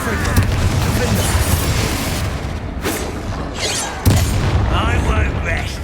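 A Confringo blast spell going off in Hogwarts Legacy on Xbox Series X, a booming burst amid constant combat rumble, with a few sharp impacts and shouted voices over it.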